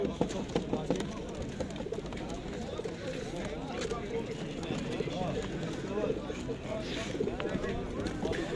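Pigeons coo amid the steady, crowded bustle of the Edirnekapı bird market, where homing pigeons are sold. Murmuring voices and market noise fill the background continuously.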